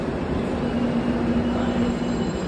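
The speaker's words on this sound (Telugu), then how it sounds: "మన ట్రైన్ అయితే నెంబర్ 2 ప్లాట్ఫామ్ మీదకి వస్తుంది." A train at a railway station platform gives a steady, continuous rumble with a low droning hum. It stays fairly loud and even throughout, and no one speaks.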